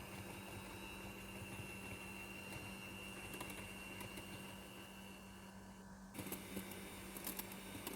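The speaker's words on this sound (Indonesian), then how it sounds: "Lalu saya akan mixer sampai kremnya kental." An electric mixer whips cream with cold milk at high speed, a steady faint motorized whir with a constant hum throughout, briefly changing in tone near the end.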